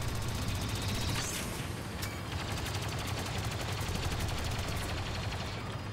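Rapid bursts of gunfire crackle continuously in Star Wars Battlefront 2, dense and sharp like automatic weapons, with no talking.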